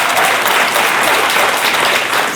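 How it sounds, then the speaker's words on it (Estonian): Studio audience on an Estonian dating talk show breaks into loud, dense applause, a steady wash of clapping that fills the whole stretch with no speech over it. "Suur aplaus."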